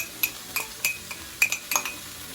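A spoon clinks repeatedly against a pan or bowl while a teaspoon of curry powder and half a teaspoon of turmeric are mixed for a creamy mushroom curry, giving about eight bright, irregular taps close by, with no talking.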